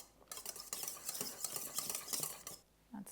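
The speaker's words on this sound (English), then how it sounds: "It's harder for my whisk to go through this." Whisk scraping steadily through stiff macaron meringue in a bowl, a close, busy run of rapid clinking strokes that stops near the end before a brief final sound.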